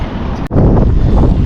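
Strong headwind roars across the microphone during an evening road bike ride, a loud continuous low rumble with one brief dropout near the start, no talking.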